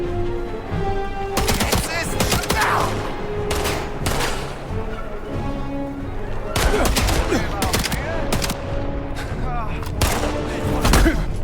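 A pump shotgun fires repeatedly in the Indiana Jones and the Great Circle video game: loud, sharp blasts come in irregular bursts over game background sound, with brief gaps between volleys.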